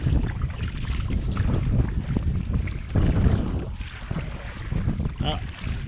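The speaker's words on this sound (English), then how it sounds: "Got a headwind." Headwind buffeting the microphone on a solo river kayak camping trip, a steady rough low rumble of gusting wind with faint water sounds throughout.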